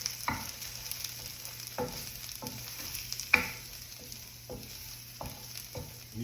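Flour-coated sausage fries in oil with a soft, continuous sizzle, punctuated every second or so by spoon scrapes and stirring knocks, heard up close at a moderate level with no speech.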